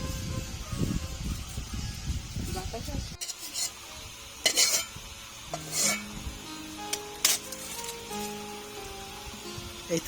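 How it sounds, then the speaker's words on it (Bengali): Gram flour fritters made with hechi greens fry in oil: a dense, loud sizzle at first, then quieter bubbling broken by several scrapes and clinks of a utensil against the pan. "ভাজা শুরু করলাম।"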